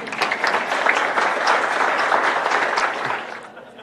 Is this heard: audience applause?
yes